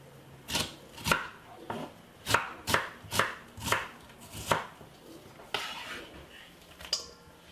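Knife chopping red onion on a cutting board for a pasta salad, a series of sharp, close, evenly spaced chops with short pauses between strokes.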